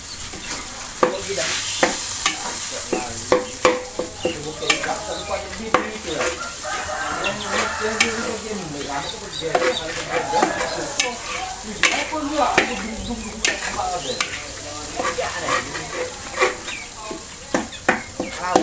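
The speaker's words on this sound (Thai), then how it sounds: "อ่ะผมก็จะใส่น้ำกะทิลงไปนะครับ" Coconut milk goes into a hot pan and is stirred, giving a close, busy sizzle with frequent scraping and clanking of a utensil, occasional faint animal calls in the background.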